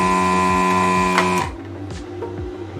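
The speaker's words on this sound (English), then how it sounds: "this thing basically is a soldering iron with a vacuum pump on it" A desoldering iron with a built-in vacuum pump runs with a steady mechanical hum and buzzing tones, then drops to a quieter, rougher drone partway through, close and alone.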